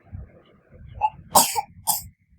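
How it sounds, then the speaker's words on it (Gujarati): A few short coughing bursts in a room at a home birthday party, close and fairly loud over a low background murmur, with no clear speech. "ઉધરસ થઈ ને દવા પીધી"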